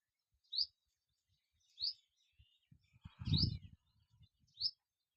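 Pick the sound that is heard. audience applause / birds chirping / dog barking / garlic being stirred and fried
birds chirping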